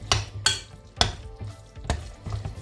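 Vegan lentil ball mixture with chickpea flour is stirred in a pan, giving irregular loud scraping knocks and soft sizzling, with no voices.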